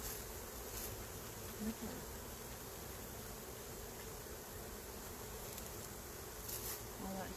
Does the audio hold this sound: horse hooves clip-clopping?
no